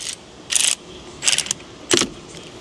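Threaded fittings being unscrewed from a brake master cylinder on an old truck during a frame-off restoration, heard as three short bursts of metallic clicking and ratcheting, close and separated by quiet pauses.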